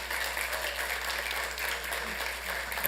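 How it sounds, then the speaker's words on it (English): Round of applause at a city council meeting for fire authority personnel, a steady patter of clapping from a modest room audience, fairly quiet and continuous, with a slight swell at the end. "Let's give one more round of applause for all of our OCFA personnel up here."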